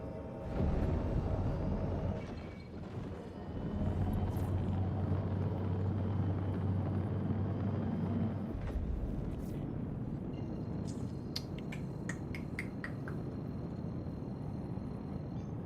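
Spaceship engines in Star Citizen rumble steadily after takeoff, a loud low drone that holds for the whole stretch, with brief higher electronic chirps and tones layered over it near the end.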